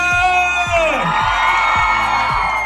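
An audience at a university event cheers and whoops loudly for a groom, a brief, close burst of shouting crowd voices with rising and falling yells.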